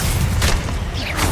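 A Repulsor spell cast in the Hogwarts Legacy video game lands as a short, loud low boom with a brief airy burst, sitting over a constant rumbling game soundscape.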